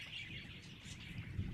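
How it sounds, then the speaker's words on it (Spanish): Birds chirp faintly in the distance, light scattered tweets over a low, steady background rumble, with no one talking. "Sus pájaros detectan la niebla"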